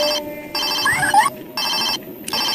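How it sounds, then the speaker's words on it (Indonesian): A Hello Kitty toy telephone rings with a bright electronic bell in repeated bursts separated by short gaps, loud and close, with a faint warbling tone between rings. "Telepon Hello Kitty, teman-teman nih."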